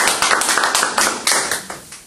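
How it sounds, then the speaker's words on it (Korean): A small group in a classroom presentation claps in short, distinct, fairly close bursts, about ten sharp slaps over two seconds with some unevenness between hands. "우리 한번 박수로 격려할까요?"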